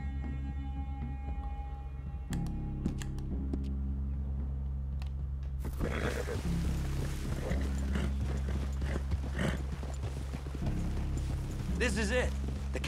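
Horses in the video game Red Dead Redemption 2, hooves clip-clopping and thudding under a low steady hum, with people talking over them through most of the stretch.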